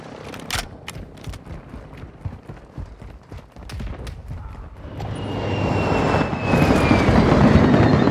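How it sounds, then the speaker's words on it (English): A stealth bomber passes overhead in the Call of Duty: Modern Warfare 2 battlefield, its loud jet roar swelling from scattered gunfire and clatter into a sustained, building rush that stays up close until the end. "Friendly stealth bomber on the way."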